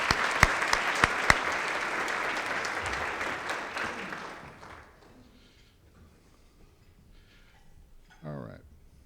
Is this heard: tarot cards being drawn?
no